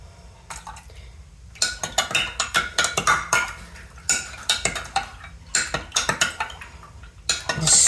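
A spoon clinks and scrapes against a bowl as milk soured with a tablespoon of white vinegar is stirred, a steady run of close, bright metallic taps with short pauses between bursts.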